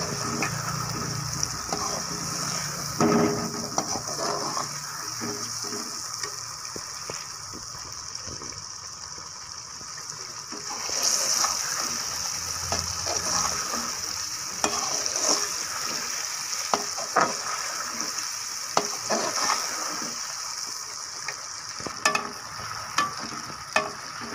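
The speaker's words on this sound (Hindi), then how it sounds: "साथ साथ इनको चम्मच हिलाते हुए ताकि अच्छे तरीके से फ्राई हो जाए" Chicken pieces fry in a hot pan for beetroot pulao while a spoon stirs them, giving steady sizzling with repeated scraping and clinking strokes throughout.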